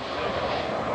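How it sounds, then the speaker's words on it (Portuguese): An airplane roars steadily nearby as it prepares for takeoff, a dense broadband engine rumble holding even for the whole second with no voices over it. "O avião já vai decolar."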